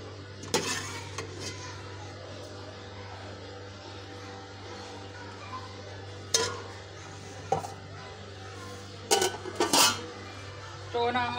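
Dishes and utensils clatter while aloo keema is served, scattered clinks and knocks over a steady low hum, with a cluster of louder clatters near the end.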